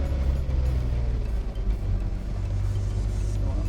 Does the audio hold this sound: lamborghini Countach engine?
yes